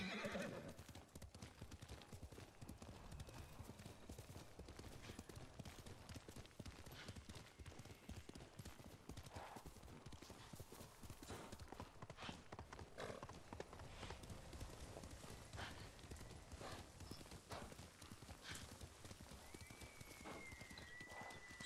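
A horse's hooves clop steadily over ground in the Ghost of Tsushima video game, with whinnies rising now and then above the continuous, close hoofbeats.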